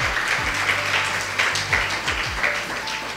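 A church congregation applauds during a sermon, a steady wash of many hands clapping together at moderate volume, sustained for a few seconds without a break.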